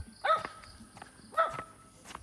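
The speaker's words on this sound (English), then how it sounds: "he's barking at that guy or lady" A small dog yaps twice, about a second apart, outdoors on a road in Sabang, Palawan, Philippines, with quiet ambient background and faint scuffing between barks.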